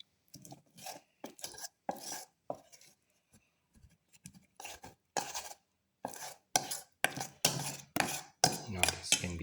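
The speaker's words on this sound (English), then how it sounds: "Until all the ingredients are nicely mixed." Chickpea flour fritter batter is mixed by hand in a bowl, giving close, rhythmic bursts of scraping and slapping strokes with short pauses that speed up toward the end, with no talking.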